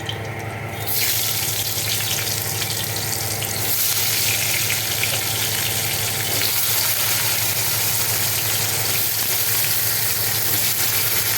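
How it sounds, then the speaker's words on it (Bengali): New potatoes fry in the oil left from frying duck eggs, a loud, even sizzle and crackle that holds steady throughout, with a faint utensil knock partway and no talking. "এবার ডিম ভাজা তেলের মধ্যে এনে আলুগুলো দিয়ে দেবো, আলুটাও ভেজে দেবো।"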